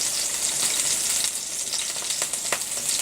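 Turkey patties fry in a pan, giving a dense, bright, even hiss with small crackles and spits across the whole stretch, close and fairly loud, with no voices.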